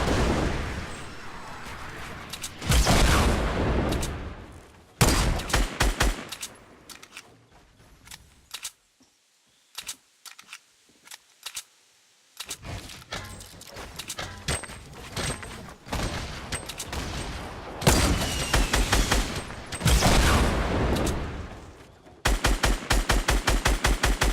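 Fortnite gunfire comes in loud, rapid automatic bursts and single shots, broken by short pauses and one near-silent stretch in the middle.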